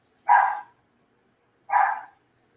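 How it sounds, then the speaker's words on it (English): Two separate barks from chihuahua dogs, each a short, fairly sharp burst with a clear silent gap between them, heard nearby and alone. "They'll bark at anything."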